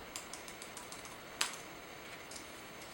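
Light, crisp keystrokes tap on an ultra-thin iMac G4 keyboard in a quiet room, a steady run of soft clicks with one sharper, louder press partway through.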